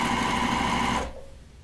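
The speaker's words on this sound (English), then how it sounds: "We're going to start to sew." A home sewing machine runs steadily, stitching a fabric strip onto a quilt block, a loud close whirring hum for about a second before it stops and leaves a faint quiet tail.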